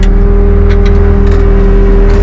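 A Mensch sand truck engine runs loud and close with a steady, deep droning hum, holding an even pitch throughout with no voices.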